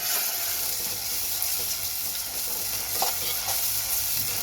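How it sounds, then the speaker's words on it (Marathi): Tomato puree stirred into a frying pan of dhaba-style smoky black rajma masala: a steady close sizzle with soft wet scraping and stirring that continues evenly throughout, with no voices. "ही जी टोमॅटो प्युरी आहे ना ती आपण यामध्ये घालणार आहोत आणि चांगली मिक्स करून घ्यायची आहे"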